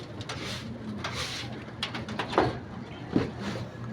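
Pigeons coo softly in a loft where they are kept as pets, with low murmuring calls and light rustling and flutter over a steady background.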